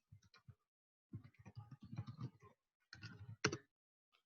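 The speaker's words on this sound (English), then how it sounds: "So I'm going to type it" Someone types on a computer keyboard in short bursts of quiet key clicks separated by pauses, close and faint, with no talk.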